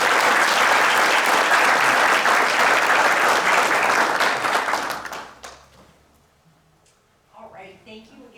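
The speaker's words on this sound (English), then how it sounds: "If we can give them one more round of applause." Warm applause at a school district board meeting for the classified employees of the year, a loud, full crowd clapping for about five seconds before fading out, followed by a voice beginning to speak.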